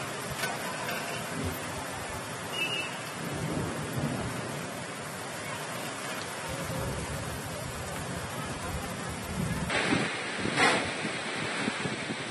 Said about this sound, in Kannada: ಆಲಿಕಲ್ಲು ಸಹಿತ ವಿಪರೀತ ಮಳೆ ಆಗಿದೆ.